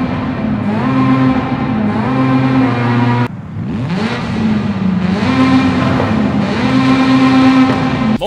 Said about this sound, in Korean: 로터리 엔진 소리 한번 들어보겠습니다